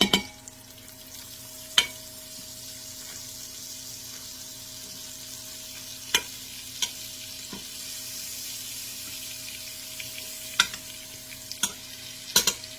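A tablespoon of butter melts and sizzles in an Instant Pot, giving a steady soft frying hiss broken by a few sharp clicks and knocks, with no talking.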